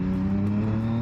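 A Yamaha MT-09 motorcycle engine droning loud and close under the throttle, a steady tonal roar that holds through the moment.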